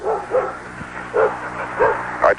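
Dog barking in a home, about five short, close bow-wow barks in an uneven rhythm with brief gaps, loud and alone.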